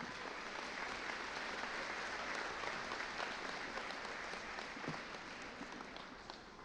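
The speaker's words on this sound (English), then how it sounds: "please give yourselves a round of applause for getting them here" Dense, steady audience applause fills a high school commencement hall for East Liverpool High School's 151st graduation, holding at an even level from start to finish with only a slight tapering at the end.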